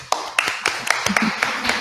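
Brief applause at a book presentation, a few sparse, irregular claps sounding close and moderately loud, with a faint voice underneath.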